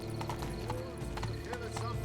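Horse hooves clip-clop in a steady galloping rhythm inside a video game, with a whinny and background music, while a person talks over the hoofbeats.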